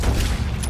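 Gunfire from a duel in the Red Dead Redemption 2 video game, loud and dense, with a sharp crack near the middle and another near the end over a heavy low rumble.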